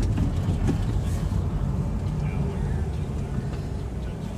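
Custom 3/4-ton Mazda Bongo 4x4 mini truck in high-range four-wheel drive pushing through snow drifts, a steady low engine and drivetrain rumble heard from inside the cab, with a person talking over it.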